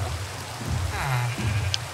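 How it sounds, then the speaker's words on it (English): Rain falls in the Minecraft video game, a steady hiss of drops filling the whole short stretch, with a brief low voice murmur and a small chime-like blip partway through. "And it starts raining."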